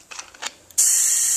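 A Cerakote spray gun is triggered to blow clear air after cleaning: a few soft clicks and handling noises, then a sudden loud, steady hiss of compressed air that continues to the end.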